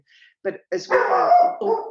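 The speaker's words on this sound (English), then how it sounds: "sorry, that's my dog." A dog gives a few loud, close barks and yips in quick succession while a person briefly talks.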